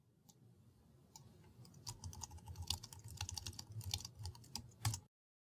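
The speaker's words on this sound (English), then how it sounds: "we'll type in some new text" Fast typing on a computer keyboard, close and quiet, a dense run of clicking keystrokes that builds in pace, with a few louder key hits before it stops abruptly.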